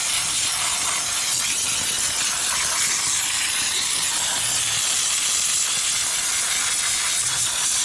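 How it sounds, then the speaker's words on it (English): A household steam cleaner hisses steadily and close during a cleaning job, a continuous bright rushing sound with no talk. "This is the first time I've used a steam cleaner"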